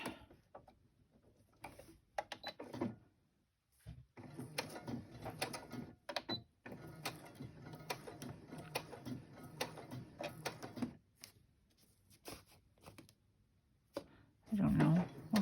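Sewing machine stitching along the edge of a lace-covered envelope pocket, heard as bursts of rapid mechanical ticking that start and stop, with someone talking between and over the runs.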